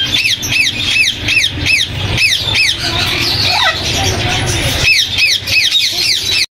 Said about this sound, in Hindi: और इन विंग अमेज़ोन के 2 हमारे पास DNA के साथ मेल हैं